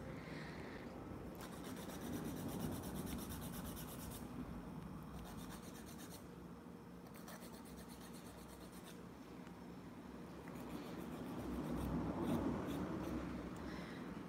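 Rasping strokes of a nail file squaring off the tips of a decorated fingernail, soft repeated scratching close to the microphone, steady and faint with brief pauses between passes.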